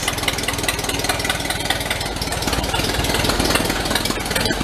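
A 1930 Plymouth barn-find engine with a restricted exhaust idles close by, a loud, steady, rapid chugging with a slightly uneven rough beat throughout.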